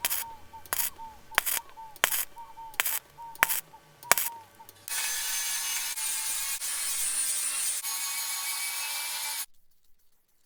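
Rusty sheet metal on a Ford Transit MK2 van is cut first with a series of sharp, rhythmic strokes, then with a long, continuous, buzzing cut that stops abruptly.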